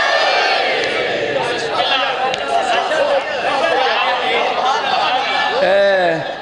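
Crowd at a Muharram majlis religious gathering in Sargodha, with a loud, dense mass of voices chanting and calling out in waves that fill the space, swelling near the end.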